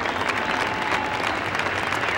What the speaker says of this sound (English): This big, big crowd salutes them as they come to the green.